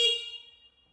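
A single short electric-scooter horn beep rings out clearly, then fades over about a second into near silence.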